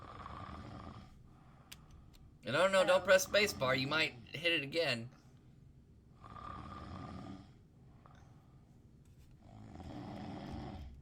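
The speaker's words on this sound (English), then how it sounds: "That snoring thing doesn't stop." A loud, rhythmic snoring from someone's cam recurs in slow drawn-out breaths, with a person talking over one stretch between snores.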